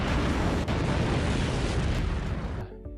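A massive industrial blast, the 1921 Oppau fertilizer factory explosion, roars as a sustained, loud, broadband rumble filling nearly three seconds before cutting off abruptly into a lower tonal tail.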